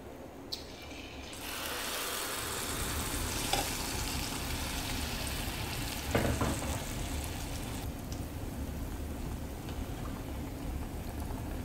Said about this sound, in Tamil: இதை ஒவ்வொன்றா எண்ணெயில் ஊற்றி எடுக்கலாம்.